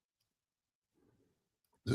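A short, loud burp after drinking a fizzy drink bursts out at the end, following a stretch of faint low mumbling noise.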